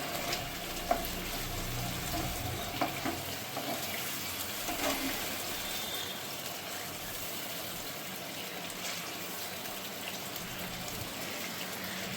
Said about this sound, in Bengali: একটু সামান্য জল দেবো